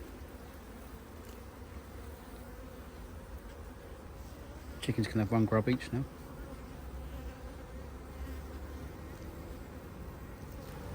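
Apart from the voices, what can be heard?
honey bees buzzing around a hive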